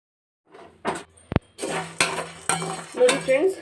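Chickpeas roast in a pan over a high gas flame while a utensil stirs them, producing close metallic scrapes and clinks in short bursts with a sharp knock partway through.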